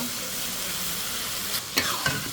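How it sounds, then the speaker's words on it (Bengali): Pieces of beef drop into a pan of hot, sizzling spice masala: a steady frying hiss, then a couple of louder splashy bursts as the meat lands, close by. "মশলাটা কষান হয়ে গেছে এখন আমি মাংসটা দিয়ে দিব"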